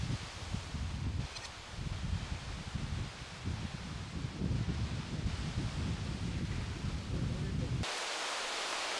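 Wind sweeps through tree leaves at a bird nesting site on a windy day, a continuous rushing rustle with gusts that rise and fall, then drop away sharply near the end.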